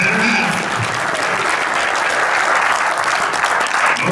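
Sustained audience applause for Russell Dietrich at a Jamestown baseball relaunch event, a steady, loud crowd clapping that fills the whole clip without a break.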